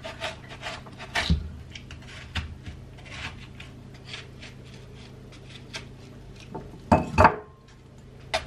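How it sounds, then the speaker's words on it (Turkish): Watermelon being cut up and dropped into a lidded bowl: soft irregular knife taps and rubbing scrapes, with a louder clatter of pieces and bowl near the end, close by and quiet, no talking. "Geri kalanını da şu ağzı kapaklı kaseme doğrayacağım."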